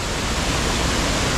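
A waterfall beside abandoned mill ruins gives off a steady, dense rushing roar, close and unbroken, with no voices.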